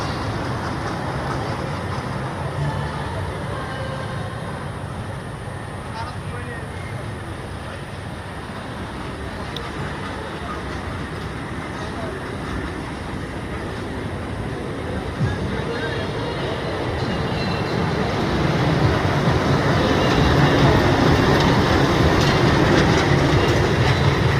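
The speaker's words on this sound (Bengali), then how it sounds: "আর এই যে ট্রেন" A train rumbles steadily nearby with rattling wheels, growing louder toward the end as it passes.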